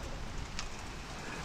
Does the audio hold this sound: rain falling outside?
yes